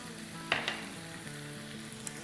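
Crushed garlic and ginger paste hit hot oil with a faint, continuous sizzle, marked by a couple of soft crackling bursts early on.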